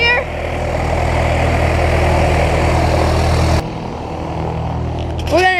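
A PT17 Stearman biplane's radial engine and propeller rumble steadily at low idle while taxiing at the Spartanburg airfield, loud and close, with the level dropping slightly partway through.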